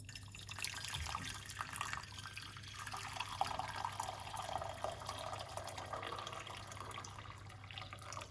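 Faint, continuous trickle of hot water pouring into a pot for rosemary, ginger, lemon and clove tea, soft and steady for several seconds with no talking.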